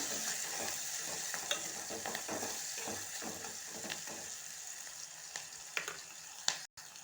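Onions sizzle in a pan after a pinch of salt goes in, a steady close frying hiss with scattered crackles and occasional stirring scrapes, no voice over it.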